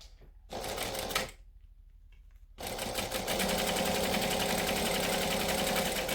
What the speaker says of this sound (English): So I'm now going to top stitch along this top edge.